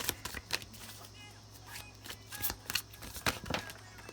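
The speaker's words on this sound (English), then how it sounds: "I'm gonna keep shuffling." Tarot cards riffle and slap together in quick bursts of shuffling, close up, with brief pauses between passes and no speech.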